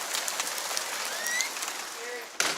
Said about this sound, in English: that rain is cold